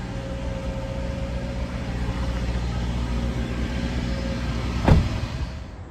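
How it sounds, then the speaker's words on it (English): A Subaru's AC compressor clutch engages with a single short, sharp clunk near the end, set against a steady, close engine hum with no talking. "Yeah, the AC compressor turned on pretty loud."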